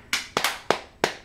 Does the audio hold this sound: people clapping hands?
yes